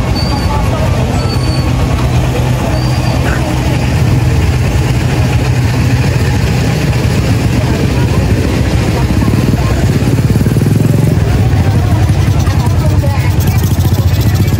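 Motorcycles of visitors idle along the roadside at a busy border market between Magelang and Kulon Progo before Lebaran, a constant loud engine rumble mixed with crowd noise throughout.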